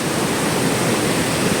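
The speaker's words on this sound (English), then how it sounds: "Finally, I reached the Cove waterfall" The Kov waterfall on a Himalayan trek near Manali rushes as a loud, dense, continuous roar of falling water, broadband and unbroken with no voices.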